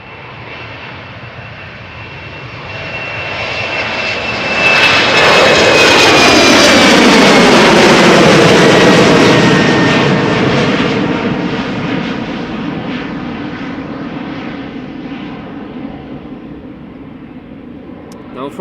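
A KLM Embraer jet roars past on departure from runway 36L, the Polderbaan at Amsterdam Schiphol, swelling to a loud peak then fading into a long rumbling wash with a whining engine tone gliding downward.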